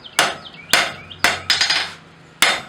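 Five sharp, ringing hammer blows strike steel on an anvil while a decorative steel heart is forged, spaced unevenly with a quick double strike near the end and resonant decay after each hit.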